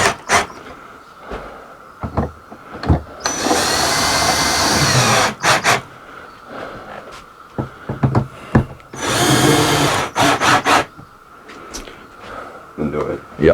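Two bursts of a power drill whirring for a couple of seconds each while tightening screws during an RV air conditioner replacement, separated by knocks, clicks and rattling of tools nearby.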